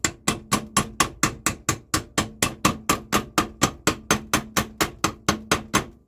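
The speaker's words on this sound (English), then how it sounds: "hammer on there to hold your bearings on" Steady metal-on-metal hammer blows drive new spindle bearings onto a shaft on a John Deere 42-inch cutter deck, about twenty evenly spaced ringing strikes, close and loud, with no talking.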